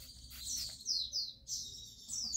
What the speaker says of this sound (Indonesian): kan memang rumahku banyak banget burung.